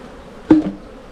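One short, close buzz passes as a honeybee flies by an opened hive, with a quiet background on either side.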